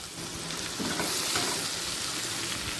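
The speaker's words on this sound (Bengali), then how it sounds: "পেঁয়াজটা তেলের সাথে একটু মিশিয়ে নিচ্ছি" Onion paste fries in hot oil, giving a dense, even sizzle close by with faint stirring underneath and no voices.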